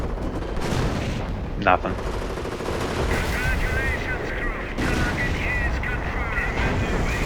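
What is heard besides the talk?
artillery barrage in Company of Heroes video game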